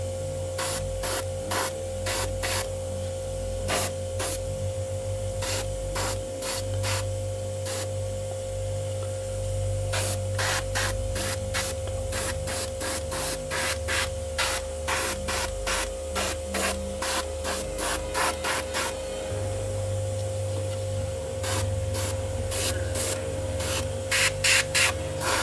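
Spray paint hisses in repeated short bursts and longer passes while camouflage is laid onto a sniper rifle, heavier on some spots, close and steady with a low hum underneath and no talk.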